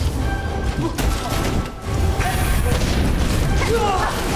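Explosions and crashes during a boss fight in a video game, a dense loud rumbling barrage with sharp impacts throughout, and a voice talking over it.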